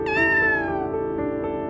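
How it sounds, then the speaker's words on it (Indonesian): A cat meows in the mobile game Sakura School Simulator, one drawn-out, pitch-falling cry that is close and clear, with no talk over it. "ternyata hanya kucing"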